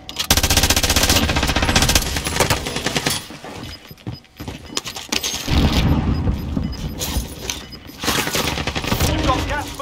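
Sustained machine gun fire from the MG 82 in Call of Duty Warzone, loud rapid bursts that rattle on for seconds at a time with brief pauses between, dense and close.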